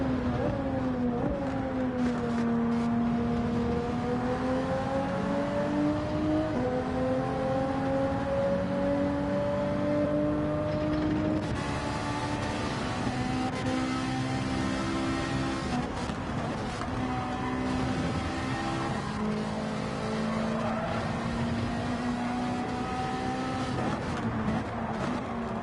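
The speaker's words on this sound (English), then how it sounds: "And I had 2 Ferraris racing each other at this point." Two Ferrari race cars in a racing video game scream along continuously, engine pitch rising and falling through gear changes and corners across a long, loud stretch with no voices.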